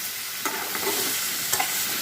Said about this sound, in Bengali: কুমড়োটা ভাজা ভাজা হয়ে গেছে